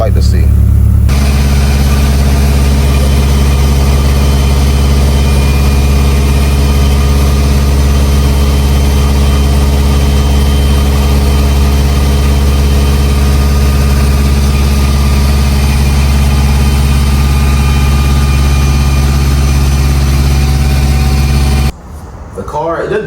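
Subaru STI with a built motor, Link ECU and Blouch turbo idles steadily and loudly for about twenty seconds, a deep even drone that cuts off abruptly near the end.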